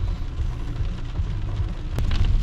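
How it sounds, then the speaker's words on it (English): Steady rain falls outdoors in rural Kentucky, a dense continuous patter with low rumbling underneath and a sharp tap near the end, fairly loud and with no talking. "yes, it's raining, but it's 10 degrees"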